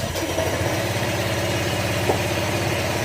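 A Honda Click 125 scooter engine upgraded to 150cc idles steadily nearby with a low, even rumble and slight vibration, quiet with no rattling, no talking.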